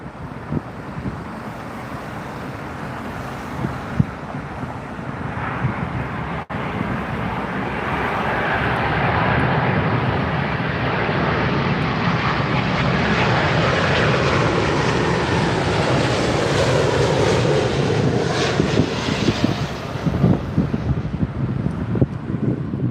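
A Boeing 757-300 airliner descends overhead to land at London Heathrow, its engine roar swelling gradually to a steady, loud rush, with gusty wind buffeting the microphone.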